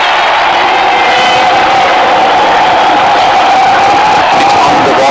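Loud, continuous stadium crowd roar with cheering and whoops from the cricket video game Real Cricket 2018 during a Pakistan vs India one-day match, a sustained wall of noise with no breaks.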